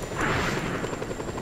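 A stolen helicopter in Just Cause 2 drones with a dense, steady rotor and engine roar that stays loud and continuous throughout.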